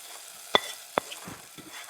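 Dried red chilies and curry leaves hit hot oil with two sharp pops followed by a quiet, faint sizzle.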